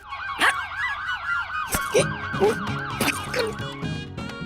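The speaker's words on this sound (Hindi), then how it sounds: "ये तो पुलिस का सायरन है" A police car siren wails, sweeping up and down repeatedly, loud and close, overlapping tones layered with a few sharp electronic blips and clanks.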